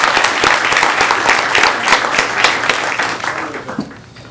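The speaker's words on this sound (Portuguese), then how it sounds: "uma salva de palmas para os debatedores" An audience at a Brazilian economics and politics debate claps for the debaters, a full burst of many hands that holds steady and then thins out and fades toward the end.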